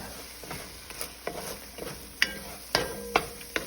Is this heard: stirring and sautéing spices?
yes